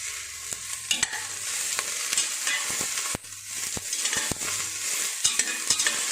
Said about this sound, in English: and the onions. And I'm going to fry just for 2 to 3 minutes.